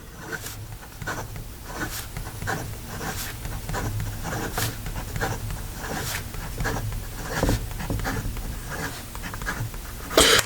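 A Montblanc James Purdey & Sons extra fine nib pen scratches quickly across paper in a series of short, brisk strokes, close and fairly quiet with a steady rhythm.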